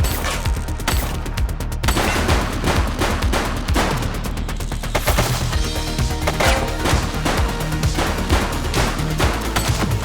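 Dense, loud gunfire from a police shooter game, with rapid overlapping shots and bursts rattling continuously throughout, close and sustained with no pause.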